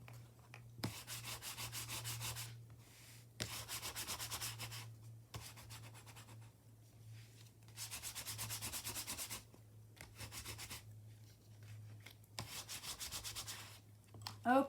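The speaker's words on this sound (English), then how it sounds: "I'm going to go ahead and give that a good burnish" Repeated rubbing strokes burnish a scrapbook surface, coming as several loud, steady scraping bursts separated by short pauses, with a low hum running underneath.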